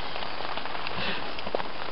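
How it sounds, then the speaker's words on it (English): Rain falls steadily in a dense, even hiss of close pattering, with no voices. "It's raining again, Keaton."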